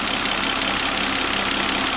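A Volvo XC90 engine idles steadily up close with a constant, dense mechanical hum and no voices over it.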